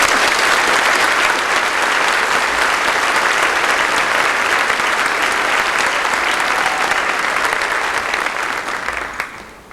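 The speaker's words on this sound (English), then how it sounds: "Please honor these students with your applause." Audience applause at a 1995 high school graduation ceremony, a loud, dense ovation of many hands clapping steadily for nearly ten seconds before tapering off at the end.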